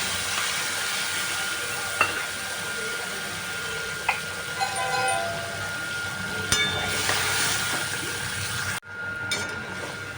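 Softened potatoes fry in a pan with ginger, onion, chilli and garlic paste, a steady sizzle with occasional clinks of a spoon stirring against the pan.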